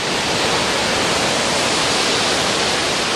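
Intense waterfalls beside a footbridge roar as a loud, steady, broadband rush of falling water that stays constant and close throughout, with no voices.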